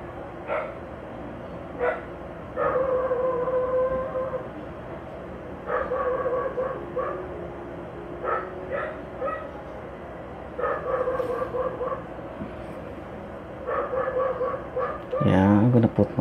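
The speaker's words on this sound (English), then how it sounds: "So everyone, if you can hear the loud dogs." Several dogs outside bark loudly in repeated bursts of yips and bow-wows, with short pauses between volleys and a final whimpering flurry; a person talks intermittently nearby.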